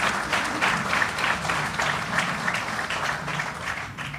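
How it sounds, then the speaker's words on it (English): Audience applause at a military promotion ceremony for a JAG colonel becoming brigadier general, a steady, dense wash of hand claps that holds for the whole stretch at moderate loudness with no talking. "Let's give her a round of applause for sharing him these many years."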